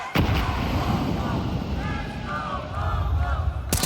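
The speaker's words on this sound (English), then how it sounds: "Sunpius with no armor takes 80 damage with that nade." A grenade blast in Counter-Strike during a G2 vs TheMongolz match at the StarLadder Budapest Major 2025: a loud, sustained roar of rumbling explosive noise opens sharply and runs for several seconds before ending in another sharp burst.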